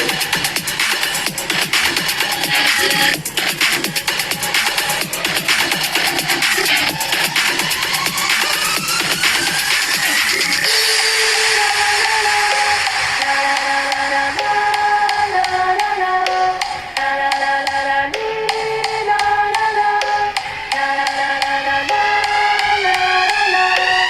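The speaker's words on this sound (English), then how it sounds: "Now that the machine has quite a few lines sewn" A fully automated CNC sewing machine stitching a double diamond pattern, a loud, continuous rapid needle chatter with a whining motor tone that rises and then shifts pitch as the stitching changes direction.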